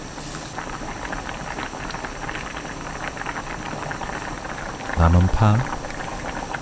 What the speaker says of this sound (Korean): 순두부, 고추 넣고 2-3분 더 끓입니다.